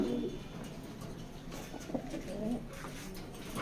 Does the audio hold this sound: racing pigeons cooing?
yes